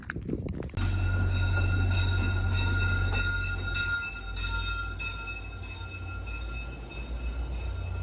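A Via Rail passenger train rumbles steadily nearby, low and continuous, with faint metallic ringing tones over it, at a station in northern Manitoba; no talking.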